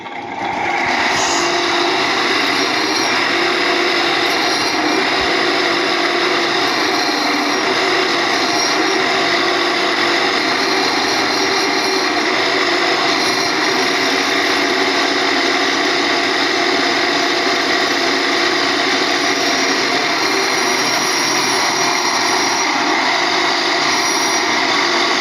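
Continuous harsh abrasive scraping of sandpaper rubbed rapidly on a Honda Tiger motorcycle camshaft, steady and loud for the whole stretch without pauses.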